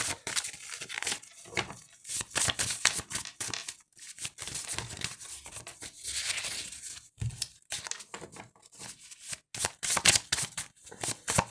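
Oracle cards being shuffled by hand, a steady run of quick papery flicks and riffles, close and fairly quiet, going on for over ten seconds with no talking.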